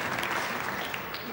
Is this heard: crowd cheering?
yes